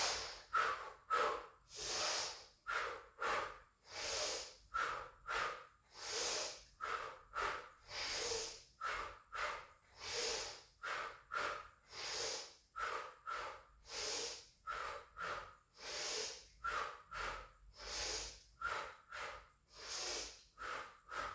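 Breathing during a pilates exercise, a long series of close, rhythmic airy breaths pulsing about once a second, each a soft hissing whoosh, with no talking.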